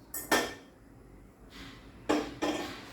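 A metal kadhai set down on a gas stove in a home kitchen: a few sharp clanks and scrapes close by, in two separate clusters with quiet gaps between.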